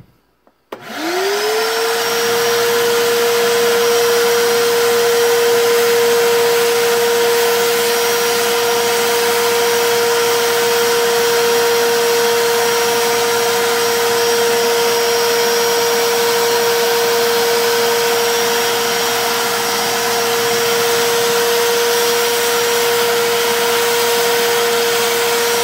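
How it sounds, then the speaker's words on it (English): A vacuum cleaner switches on with a sharp start and then runs loud and steady with a constant high whine, clearing dust off a sign just cut on a 3018 CNC machine. "Let's vacuum this off."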